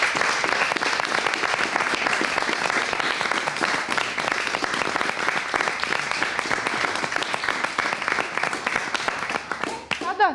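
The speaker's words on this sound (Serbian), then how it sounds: "ajmo jedan anekdotski hod i jedan aplauz" A studio audience at a talk show bursts into sustained, dense applause that keeps up for about ten seconds, then thins out and fades right at the end.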